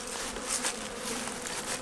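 Steady, dense buzzing of many honey bees close by at a hive, a continuous hum with no talking.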